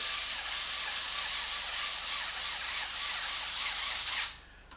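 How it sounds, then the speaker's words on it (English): A small 90-degree drill runs screws down on an XMAXX RC truck motor mount, a close, pulsing whir for about four seconds that stops abruptly. "I'm going to go ahead and go back to my 90-degree little drill here"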